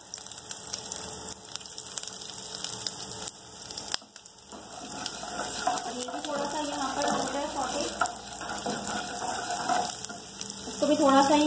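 Garlic and ginger frying for tomato chutney, a sizzle that swells after a brief pause, with stirring and a splash of water, under soft talk.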